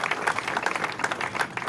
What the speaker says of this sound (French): de bien vouloir applaudir pour celles que nous sommes en train de pleurer en ces jours.